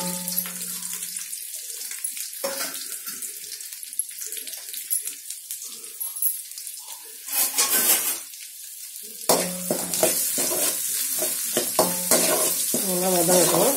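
Onion and garlic, added after curry leaves, fry in a pan for a fish curry. Repeated stirring scrapes and clatters ride over a crackling sizzle that surges louder partway through, with no speech.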